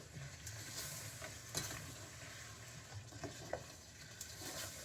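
A creamy pecan praline mixture of brown sugar is stirred in a pot, giving a steady, close scraping and swishing with a few sharper knocks of the spoon against the sides.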